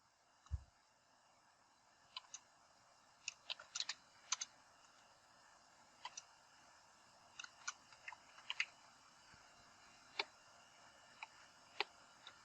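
Sparse, irregular clicks from typing on a computer keyboard while a name is entered into the Amazon Inspector console on AWS, quiet and close with short bursts of keystrokes and pauses between them, no talking.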